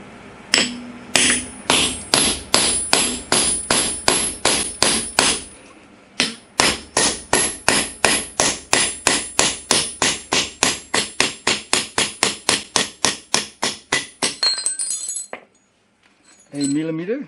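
A knife made of MagnaCut steel hardened to 65 Rockwell or 1095 steel at 64 Rockwell chops repeatedly into a 16D steel nail, sharp ringing metallic strikes in a steady rhythm, about forty blows with a short pause partway, then stopping.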